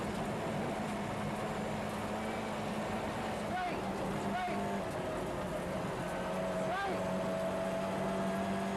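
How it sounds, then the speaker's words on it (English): A 400 horsepower, 7-speed Ford Escort Cosworth rally car drives during a 1994 Baie des Chaleurs rally event, its engine a steady, muffled droning roar with several rising revs, heard from inside the car while voices talk over it. "Yes, this is the 400 horsepower, 7-speed Ford Escort Cosworth."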